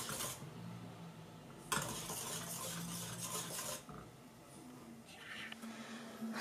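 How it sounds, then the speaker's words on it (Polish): A spoon scrapes and stirs pudding around a pot over low gas in bursts, soft clinks and swishing rubs close up, with quiet pauses between. "Trzeba mieszać, na malutki gaz dałam i mieszam, żeby mi się nie przypaliło."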